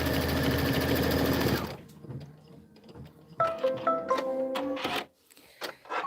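An embroidery machine hums in a fast, dense buzz as it stitches a trim placement line for a Kimberbell mitten block, then stops abruptly, leaving quieter clicks and mechanical shuffling.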